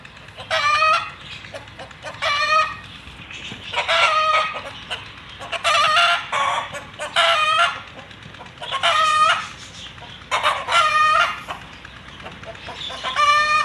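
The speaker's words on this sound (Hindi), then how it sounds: "ये देखिए हमारी मुर्गियाँ भी आ गई हैं।" Chickens clucking and squawking in repeated bursts, close by, with brief pauses between the calls and a low background hum.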